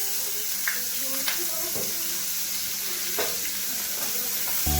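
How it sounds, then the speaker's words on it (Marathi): Finely chopped onion frying in hot oil, a continuous close sizzling hiss with a few soft stirring clicks and a faint voice in the background. "इकडे गरम झालेला आहे तर त्याच्यात मी बारीक चिरलेला कांदा घालून टाकते"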